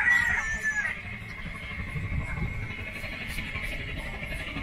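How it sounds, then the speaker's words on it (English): Two roosters fighting through a cage in the Vietnamese countryside, with crowing and clucking heard close at first, then a busy outdoor background with faint voices. "Two roosters fighting through a cage."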